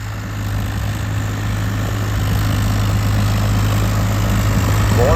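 A Swaraj 855 4x4 tractor runs steadily in a rain-soaked field, its diesel engine holding a loud, constant low drone close by, with no talk over it.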